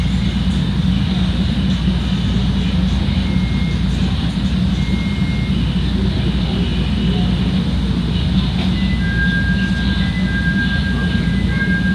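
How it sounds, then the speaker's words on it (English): A CTA Red Line subway train rides underground toward Howard, a loud, steady roar of wheels and motors filling the car with faint tonal whines above it. "This is a red line train to Howard."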